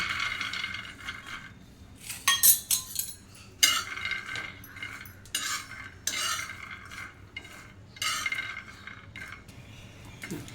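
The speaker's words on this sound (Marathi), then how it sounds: "आता आपल्याला त्याच तव्यावरती शेंगदाणे पण भाजून घ्यायचे आहेत" Peanuts roasting on a tawa, stirred with a metal spatula: repeated scraping and clinking strokes in irregular bursts, fairly close, with no talking.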